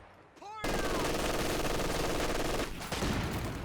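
Machine gun fire in the video game Company of Heroes 2, with a sustained loud rapid burst of gunfire lasting about two seconds after a short whistling sound, then further shots.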